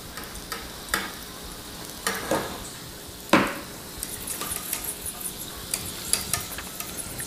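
Sauce being whisked in a bowl while oil is added a few drops at a time, heard as quiet, irregular scraping and tapping strokes with a few sharper clinks, alone with no talk.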